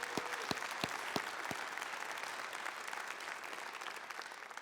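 Audience applause at a city State of the City civic event, a few sharp claps at first, then steady broadband clapping that carries on throughout at moderate level.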